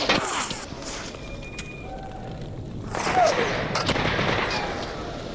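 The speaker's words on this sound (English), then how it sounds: "It is kind of neat being able to hear the gunfire and then the whiz." Distant gunfire cracks followed by bullet whizzes passing by in Stalker Anthology, with intermittent shots and a faint rising whine over a hissy outdoor ambience.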